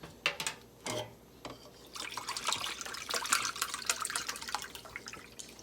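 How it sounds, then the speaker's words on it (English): Chicken broth poured from a carton into a pot of ground turkey ziti pasta with kale, a few splashes and drips opening into a steady, close liquid pour that gurgles for several seconds. "And then I'm gonna add my chicken broth."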